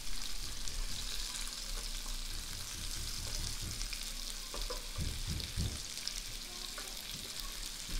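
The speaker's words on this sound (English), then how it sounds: "Potatoes absorb a lot of oil when they're cooking." Potatoes fry in oil in a pan with a steady, fairly quiet sizzle throughout, a few brief scraping or pressing sounds around the middle, and no voices.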